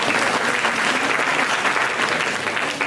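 A church congregation claps continuously, a loud, dense applause held at an even level from start to finish.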